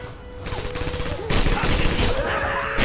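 Gunfire in the World War II shooter Red Orchestra 2 on the Red October Factory map, a steady crackle of many shots and explosions that swells louder halfway through, with a voice speaking faintly underneath.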